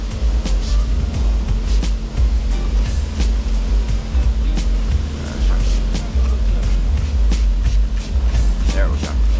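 Purple Power degreaser sprays from a wand at a self-serve car wash onto grimy car wheels. It makes a loud, continuous hiss and rush with small pulses in its strength, close to the listener.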